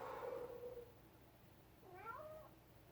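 A cat meows twice, a short cry followed by a longer wavering one a moment later, fairly quiet in a still room.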